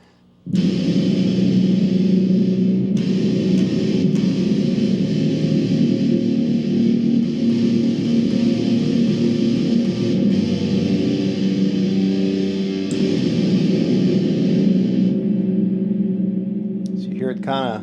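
Dirty fuzz electric guitar played through an M-Vave Mini Universe reverb pedal: sustained distorted chords ringing out loud and close, each wash of reverb decaying and echoing away, with a few fresh strums along the way and no talking.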